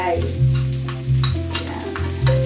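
Vegetables sizzle and fry in a hot pan for a pancit gisado, with repeated scraping stir strokes in a steady rhythm over the constant crackle, close and fairly loud, no voices.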